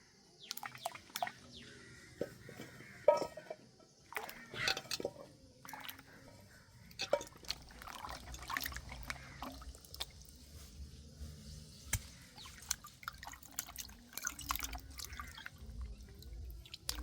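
Guavas are washed by hand, with faint, irregular water drips, splashes and soft squishy handling sounds close by in a quiet room.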